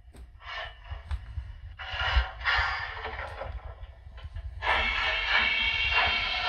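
LGB garden-railway model of a Saxon IV K steam locomotive with its sound system volume raised, giving loud rhythmic chuffing and hissing bursts in repeated puffs, close up.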